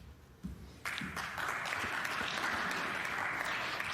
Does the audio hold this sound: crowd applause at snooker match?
yes